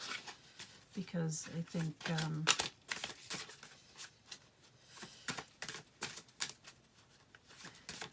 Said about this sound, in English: I'm just going to pull my Sacred Path cards